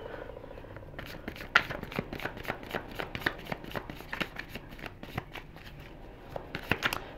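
Celtic tarot cards are shuffled close up in a quick, continuous run of riffling and soft snapping card sounds with no voice.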